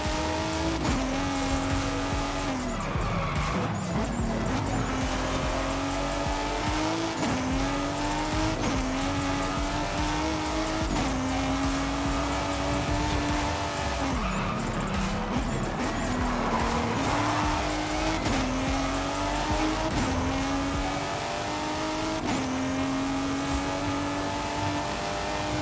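2JetZ race car in Forza Horizon 5 revs through repeated gear shifts over a lap, its engine note climbing and dropping steadily while tires squeal through the corners, loud and continuous with no talking.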